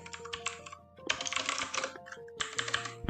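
Python code being typed on a computer keyboard: quick bursts of clattering keystrokes with short pauses between them, close and fairly quiet.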